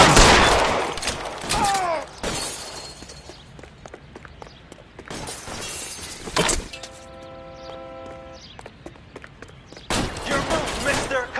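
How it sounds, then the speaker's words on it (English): Gunfire in a PS4 video game standoff: loud bursts of shots and clanging impacts in separate clusters, with game dialogue between them and a tonal game sound in the middle. "Lay down some covering fire"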